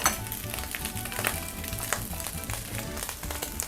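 Char siu is stir-fried into fried rice in a hot pan. A busy sizzle runs underneath as the spatula clatters and scrapes in an uneven rhythm, with a low rumble in the background.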